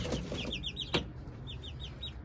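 Young chickens in a coop making soft chirping clucks in quick repeated bursts, close but quiet, with one sharper call partway through and a low background hum.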